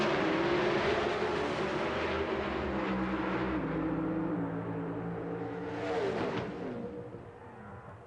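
Warren Johnson's Oldsmobile drag racing car roars during a Friday afternoon qualifying run, a loud sustained engine howl that holds for several seconds, briefly surges again, then fades away into the distance.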